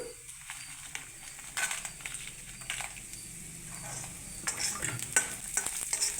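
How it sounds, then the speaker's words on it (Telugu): Green chilies frying in a pan on a low flame for ginger chutney, a soft crackling sizzle broken by the scrape and clatter of a spoon stirring. The sound is quiet and close, with no speech. "సిమ్లో వేయిస్తున్నాను"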